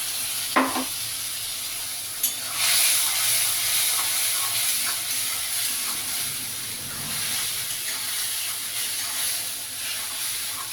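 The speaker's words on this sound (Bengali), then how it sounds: "ওই অল্প তেলেই রান্নাটা করে নেব দিয়ে দিচ্ছি সমস্ত মশলাটা দিয়ে দিলাম" Ground spices fry in a little oil for an egg curry, a steady, close hiss of sizzling that runs throughout, with a couple of brief utensil clicks near the start.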